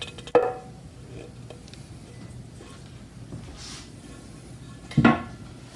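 A tight ball of biscuit dough, made with baking powder and baking soda, is tipped out of a mixing bowl: a soft thump at the start, a quiet stretch, then a second louder knock near the end.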